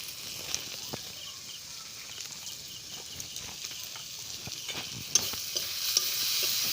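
Ground cumin, coriander and black pepper stirred and fried in a pan while making an egg and potato snack. A soft, steady sizzle runs under repeated scraping and tapping of a spoon on the pan, close by, with no talk.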